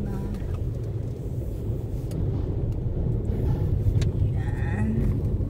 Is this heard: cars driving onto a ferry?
yes